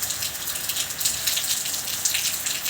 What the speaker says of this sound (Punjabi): ਇੱਥੇ ਤਕਰੀਬਨ ਘੰਟੇ ਦੇ ਲਗਭਗ ਹੋ ਗਿਆ ਬਾਰਿਸ਼ ਸ਼ੁਰੂ ਹੋਈ ਨੂੰ